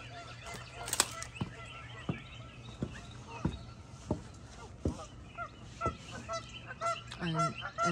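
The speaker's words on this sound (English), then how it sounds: "And the geese think I have bread for them" Geese honk by the water on a cold winter morning in Tennessee, repeated sharp calls from several birds, some close and some farther off, with rustling movement between them.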